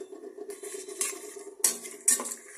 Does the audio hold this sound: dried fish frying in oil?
yes